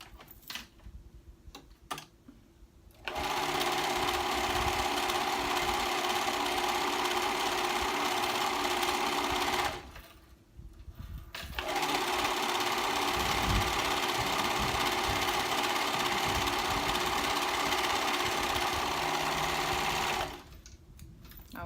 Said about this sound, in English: now I'm going to sew the sides together